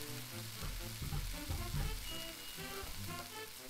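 Salmon frying in a pan in the game Cooking Simulator: a continuous, dense sizzle with crackling spatter, steady and fairly close throughout, with a few soft thumps underneath.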